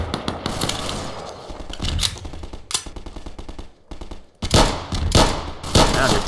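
Gunfire in Garry's Mod rattles out in loud, rapid bursts, shots clustered with brief gaps between volleys, close and sharp, with faint voices underneath.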